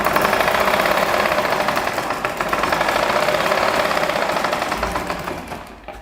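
Sewing machine stitching fabric at a fast, steady speed, a loud close rapid mechanical whirr with rhythmic needle clatter that slows and winds down near the end.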